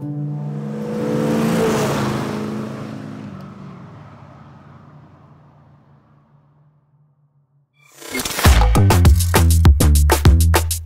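The KITT car from Knight Rider, an engine that swells into a rising, fading rev and dies to silence, then a loud burst of rapid, pulsing revs close up.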